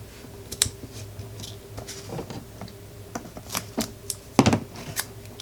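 Several pieces of sticky tape cut by hand during a papercraft project, heard as soft, sparse snips and crinkling clicks at close range, fairly quiet with brief louder bursts near the end, no talk.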